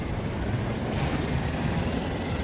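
Jet aircraft passing in the Battlefield 2042 game, a steady, broad rushing roar that holds at the same level throughout, with a brief brighter swell in the middle.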